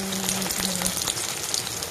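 Pumpkin and potato pieces fry in oil with onions in a pan, giving a steady, dense, close crackling sizzle with no voices.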